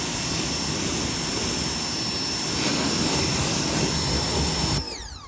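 A Ryobi 1800 PSI, 1.2 GPM cold-water electric pressure washer sprays through a 15-degree nozzle, giving a loud, steady rushing hiss with a motor whine that stops abruptly near the end.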